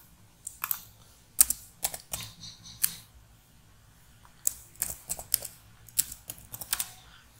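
Clicky keystrokes on a computer keyboard come in irregular bursts while code for a Java/Python prefix-sum range query is typed, with short pauses between flurries and no talking.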